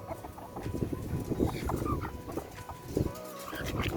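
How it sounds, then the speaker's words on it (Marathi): Chickens clucking and chattering close by, a busy stream of short calls with faint background noise. "हे अशा कोंबड्या गेलेत अजून बाकी आहेत कोंबड्या जायच्या"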